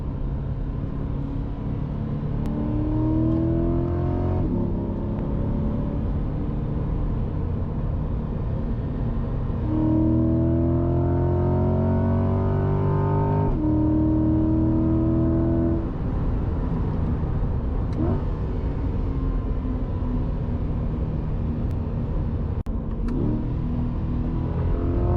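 A Chevrolet C8 Corvette drops a couple of gears, and its engine rumbles up through the revs in rising surges, heard steadily and close from inside the car with no talk.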